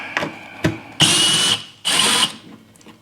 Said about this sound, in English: got myself a new toy. Little impact driver.